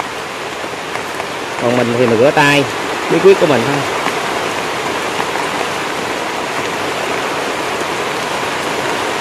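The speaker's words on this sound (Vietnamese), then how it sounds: "Quá mưa tới luôn à," Heavy rain falls outdoors at a snake-trapping site in Soc Trang, a steady loud hiss throughout, with someone talking briefly over it early on.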